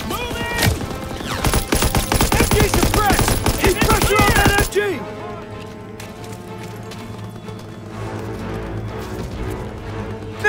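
Loud, dense machine gun fire from a World War II battle in Call of Duty WWII rattles in rapid continuous bursts for several seconds, then drops off to quieter distant shots and battle ambience.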